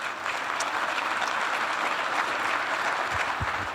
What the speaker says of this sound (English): a round of applause for you for the work that you did during the pandemic